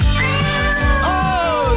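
A cat meows repeatedly in a radio studio, several rising and falling calls close to the microphone and fairly loud, with no talk over them.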